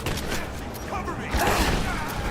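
Gunfire crackles through a battle scene in the action game Rise of the Tomb Raider, a dense, steady barrage of shots under a busy mix, with a heavier boom near the middle.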